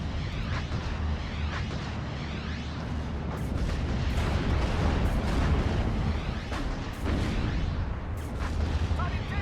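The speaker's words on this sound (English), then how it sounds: "See how much we can take out with that rocket strike." Rocket strike explosions in the World War II strategy game Steel Division: Normandy 44, a rolling barrage of booms and cracking bursts layered over a constant rumble, dense and continuous throughout.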